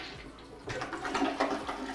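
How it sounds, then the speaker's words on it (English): A house toilet flushes nearby: quiet at first, then a sudden rushing surge of water that keeps churning loudly until the end. "You can simply test this by actually taking a look and giving it a flush."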